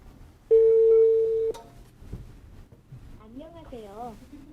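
Outgoing call placed through an Amazon Connect cloud call-center system: a steady, loud dial-type tone lasts about a second, followed by quieter talking voices.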